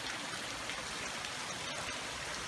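Water pours steadily from an underground pipe that collects gutter downspout runoff from several buildings, making a continuous close-up rushing, splashing hiss with no break and no talk.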